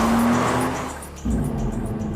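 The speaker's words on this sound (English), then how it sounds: "And a sports car." A sports car drives past loudly with a roaring engine and a brief tire squeal, the sound swelling, dipping for a moment, then surging back, with no talk.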